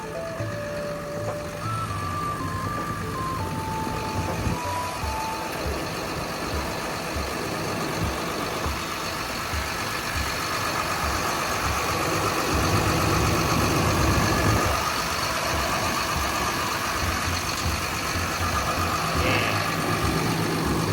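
A Caterpillar 320EL-2 excavator's C6.6 turbo diesel idles steadily up close, a continuous low rumble with a faint tonal beeping near the start that swells slightly later.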